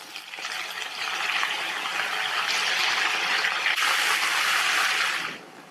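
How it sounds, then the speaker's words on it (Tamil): Water gushes and splashes steadily as it drains off chopped cabbage that was soaking in water, a loud continuous pour lasting several seconds before it stops abruptly. "தண்ணியில கட் பண்ணி போட்ட முட்டைக்கோஸை தண்ணியை நல்லா வடிச்சிட்டு இதுல சேர்க்கிறேன்"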